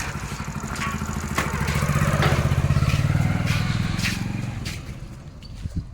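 A motorcycle engine idles steadily nearby, its low throbbing rumble swelling slightly in the middle before easing off, with a few clicks near the end.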